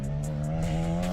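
An EMX 400 two-stroke dirt bike engine bogs in a steady low drone without rising revs, with faint rhythmic whooshing above it and no talk.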